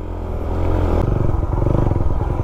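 A Suzuki Raider 150 motorcycle fitted with a Vmax racing exhaust pipe idles and revs close by, a loud, pulsing throaty thrum that picks up rhythm after a blip of the throttle.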